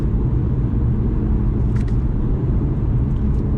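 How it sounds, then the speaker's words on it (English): A BMW G20 330i with a turbocharged engine rumbles steadily while driving, heard from inside the car as a continuous low drone with no distinct gear-change breaks standing out. "Touch, drops a gear, touch, drops a gear"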